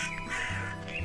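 Crows caw in a radio drama, a short burst of harsh, nasal calls standing out clearly over a low background hum.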